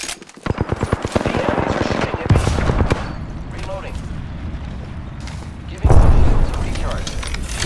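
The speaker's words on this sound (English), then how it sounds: "The enemies are shooting at me." Rapid automatic gunfire in Apex Legends, a fast burst of dense shots opening the fight, then heavier impacts and sustained battle noise with a second loud burst near the end, all close and loud.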